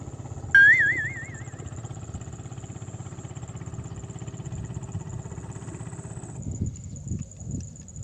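A steady engine drones on at a distance for several seconds, a motorboat chugging past on Laguna Lake with a faint whine over the rumble.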